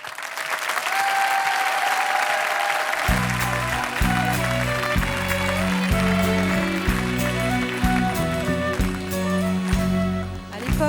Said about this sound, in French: Mesdames et messieurs, je vous demande d'applaudir Valérie Douillet.